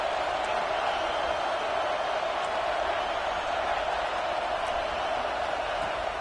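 Large football stadium crowd at Notre Dame vs Michigan, a continuous roaring wash of noise that holds steady and loud throughout, with no breaks or distinct voices.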